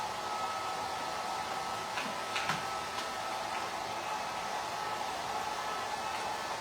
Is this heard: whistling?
no